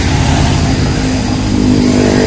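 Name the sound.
big motorcycle riding past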